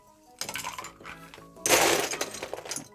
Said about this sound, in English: We're just going to top up with a bit more ice in each glass.